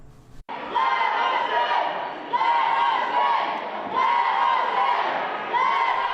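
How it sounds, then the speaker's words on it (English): Several hundred rain-drenched protesters crowded outside second-floor state House chambers, shouting loudly to be let in; a sustained, dense roar of chanting voices with rhythmic surges, close and continuous after a sharp opening thud. "The completely drenched crowd of several hundred parked itself outside the second-floor House chambers, loudly demanding to be allowed in."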